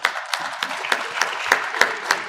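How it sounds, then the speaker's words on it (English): Applause from the crowd at the 4th annual Hussain Day gathering in a courtyard, honoring volunteers; close, fairly sparse claps with a few sharp individual hits standing out over a steady patter. "So give a round of applause to"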